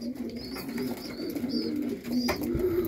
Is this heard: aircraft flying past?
no